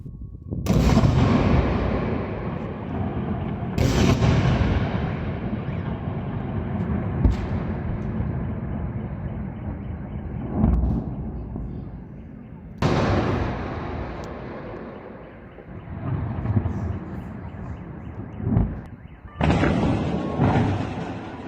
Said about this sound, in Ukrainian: очевидці зазняли декілька прекрасних вибухів у Севастополі